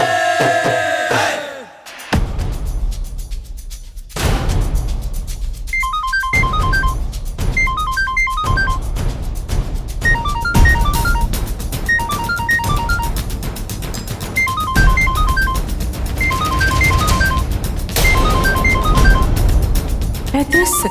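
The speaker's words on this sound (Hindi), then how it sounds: "तेरे सकेत का फोन बाज रहा है" Mobile phone ringtone playing a repeating melodic pattern in bursts over a busy background of music and voices, with people talking nearby throughout.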